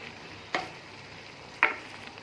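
Apricot chutney with salt cooking in a pan, a quiet bubbling background broken by two distinct spoon scrapes or taps against the pan about a second apart, close by with no talking.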